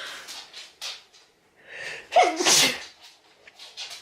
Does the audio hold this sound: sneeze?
yes